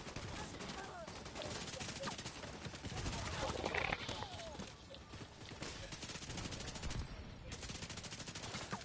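Rapid gunfire from hollow point rounds in the video game The Division, rattling in dense bursts and volleys throughout at moderate distance, with a player's voice talking over it.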